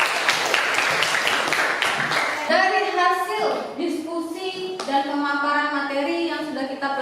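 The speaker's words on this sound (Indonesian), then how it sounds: "Oke, tepuk tangan dong." A classroom of people claps in a burst of applause lasting a couple of seconds, followed by talking voices.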